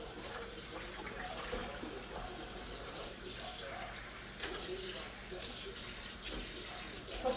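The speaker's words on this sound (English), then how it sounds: "I'm going to rinse this rice off until there's practically no starchy water." Water runs steadily from a tap, splashing and swishing as rice is rinsed, with faint talk beneath the flow.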